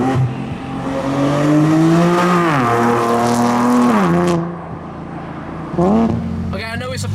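A Nissan 370Z with a naturally aspirated 3.7 litre V6 revs loudly, its engine note climbing, holding and dropping in several pulls, then fading to a lower drone before one more short blip.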